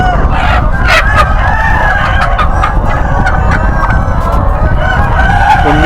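A large flock of Lohmann Brown parent stock chickens in a poultry shed, clucking and calling constantly with repeated rooster crows cutting through, loud and close with a continuous busy din.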